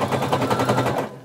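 A sewing machine stitches a swimsuit strap in a short, fast, rapid-fire burst of even needle taps, close and loud, then slows and stops.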